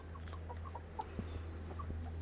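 Backyard hens around a henhouse built from pallets and salvaged materials give soft, scattered clucks over a steady low hum, fairly quiet and close.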